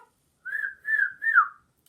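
A person whistles in imitation of a male walrus call, giving three short rising-and-falling whistled notes in an even rhythm, close and clear against silence.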